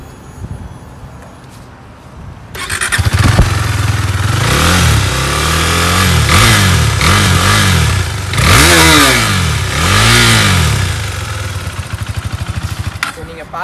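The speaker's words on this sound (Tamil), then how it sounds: "இந்த வண்டியோட எக்ஸாஸ்ட் சவுண்டை மட்டும் கொஞ்சம் கேளுங்க" A KTM Duke 390 motorcycle's exhaust revving up close, a loud raspy engine note climbing and falling through several quick throttle blips over a steady idle.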